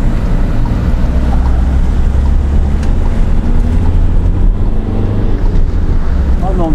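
A Volkswagen Crafter van's engine pulls hard and steadily, a loud continuous low rumble with wind and road noise filling the cabin throughout.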